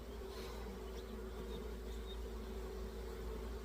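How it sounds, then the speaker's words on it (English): Honey bees buzz steadily around an outdoor hive, a continuous low drone with a few individual bees passing close now and then, fairly faint and with no talking. "the bees are everywhere"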